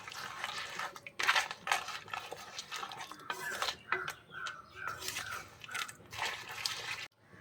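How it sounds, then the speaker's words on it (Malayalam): Coconut milk splashes in bursts as it is poured into a Kerala-style crab curry in a pot, with a few clinks of utensils between the pours. "ഇനി കുറച്ച് തേങ്ങാപ്പാൽ ഒഴിച്ച് കൊടുക്കാം."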